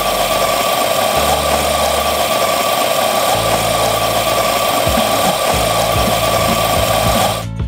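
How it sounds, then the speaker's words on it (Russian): An electric coffee grinder running continuously as it grinds coffee beans to a fine powder for Turkish coffee, giving a loud steady motor whine with shifting lower rumble, then cutting off abruptly at the end. "И у меня, как у подготовленного человека, есть специальная кофемолка. И она как раз таки сейчас нам сделает нужный помол."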